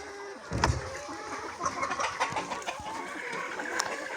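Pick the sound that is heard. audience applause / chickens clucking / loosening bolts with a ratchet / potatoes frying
chickens clucking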